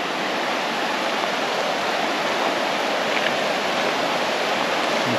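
A mountain stream rushes over rocks in a wooded valley with a steady, dense, close roar that holds continuously with no voices.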